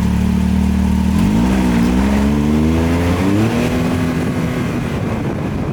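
A Can-Am Maverick XRC side-by-side engine with a modified throttle pedal idles loudly and close, then revs up in one smooth rising sweep and settles at a higher, steady drone.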